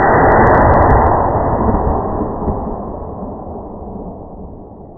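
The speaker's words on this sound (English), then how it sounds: "I'm gonna try to keep this one high so I don't get in the same channel in that one." A single loud 9mm Hornady Critical Defense shot fired into ballistic gel outdoors: one sharp blast at the start, then a long rumbling decay that fades over several seconds.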